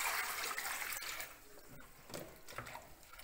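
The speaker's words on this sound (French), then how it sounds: "on va ajouter de l'eau" Water poured into a pot of Moroccan harira soup, a short, fairly faint splashing gush with a few small knocks, heard without talk.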